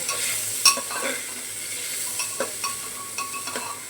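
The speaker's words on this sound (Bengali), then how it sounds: "বেশ সুন্দর করে নাড়াচাড়া করে মিশিয়ে নিলাম" Salt being stirred into chicken soup in a cooking pot: soft scraping and light clinks of a utensil against the pot, a few sharper taps over a faint steady simmering hiss, close and fairly quiet.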